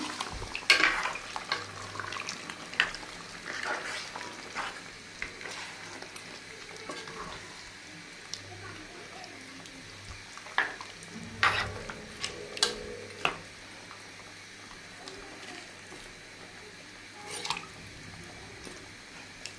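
Chicken sizzles steadily in a pan while a utensil stirs and scrapes, with scattered clicks and taps against the cookware.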